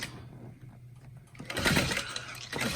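A hand-cranked sewing machine stitches a handbag at a long stitch length, with a faint whirring that swells into a louder, rough mechanical rattle partway through, with no talking.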